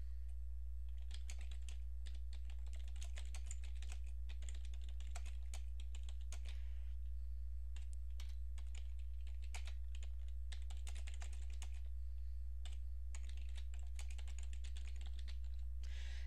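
Quiet, irregular tapping on a computer keyboard comes in short bursts of keystrokes with brief pauses, over a steady low hum.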